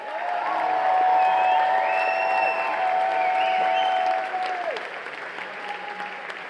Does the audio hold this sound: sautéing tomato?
no